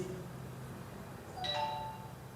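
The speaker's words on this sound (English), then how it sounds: "if we strike the steel tumbler, we are going to get what is known as sound" A steel tumbler is struck once, giving a bright metallic ring that rises and lingers for about a second over a steady background hum.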